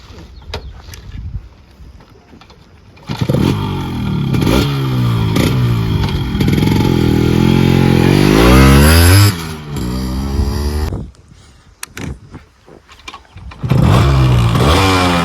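A Yamaha RX 135 two-stroke motorcycle kicks into life and rides off, its loud, raspy engine revving up and down through gear changes close by, with brief dips before the throttle opens again.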